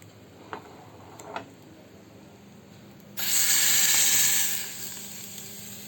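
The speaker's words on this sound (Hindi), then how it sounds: "अब ये चटकने लगी है, अब तैयार होने वाला है छौंक हमारा" Whole spices crackling in hot oil for a chhaunk tempering in a home kitchen, a few faint pops early on, then a sudden loud steady sizzle that swells and gradually eases off, with no one talking.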